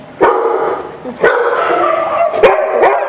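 Several dogs bark loudly and close by, overlapping yips and barks in quick bursts with some whining between them.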